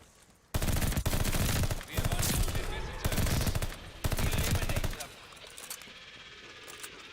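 Rapid automatic gunfire rattles in several long, loud bursts with short gaps in a zombie video game, then fades to quieter background sound while a voice talks faintly.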